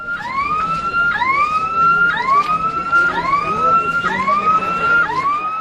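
Fire brigade vehicle siren wailing during a student protest against fee hikes, rising sweeps repeating about once per second, loud and steady across the whole stretch with no talk over it.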